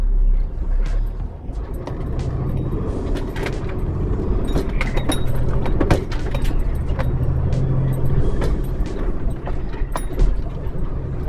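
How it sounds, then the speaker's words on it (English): A truck drives past on a road outdoors, a loud, steady, rumbling engine and tyre noise that lasts throughout, with scattered clicks and rattles on top. "I'll let this truck go first."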